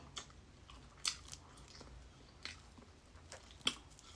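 Vegan dried meat, eaten with sticky rice, is chewed in quiet, soft crunching bites with a few sharper crisp snaps spread across a few seconds, close up and with no talking.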